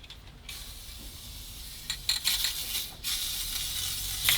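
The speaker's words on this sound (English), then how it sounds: "I'll spray up here now, just so it's done." Spray glue hisses from an aerosol can nozzle while lining a micro camper van for arctic weather, a steady broadband hiss with a few louder bursts and clicks, close by, with no talk.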